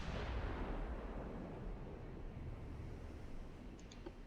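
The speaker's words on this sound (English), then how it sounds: "We've got a shot off" A battleship gun fires in the naval game Ultimate Admiral Dreadnoughts, a single deep booming blast that rumbles and slowly fades, heard alone with no speech.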